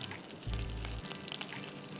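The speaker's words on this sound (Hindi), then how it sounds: "ये इसका बघार है, तड़का है इसका ये।" Spices (curry leaves, mustard seeds, fenugreek, round dried red chillies) crackle and sizzle in hot oil for tempering, a sudden loud burst of frying that settles into a steady, close sizzle.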